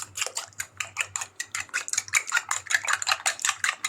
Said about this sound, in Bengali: এরপর এটাকে ভালো মতন মিক্স করতে হবে,